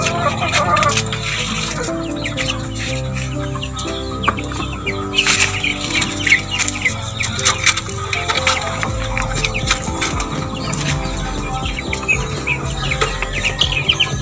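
Chickens clucking and chirping while being fed mixed feed, a busy, continuous flock chatter with some wing flapping, loud and close throughout.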